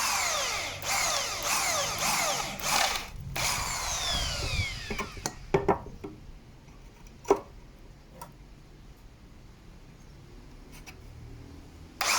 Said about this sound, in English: I'm drilling the holes off center so I can fit into pop rivets.